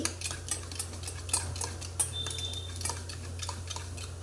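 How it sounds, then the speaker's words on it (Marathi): A spoon stirs spices and fresh sweet curd into a bhindi masala gravy, giving soft repeated scrapes and light taps against the pot over a steady low hum, with no talking. "आता हे सगळं एकत्र करून घेऊया आणि छान ग्रेव्ही बनवून घेऊया"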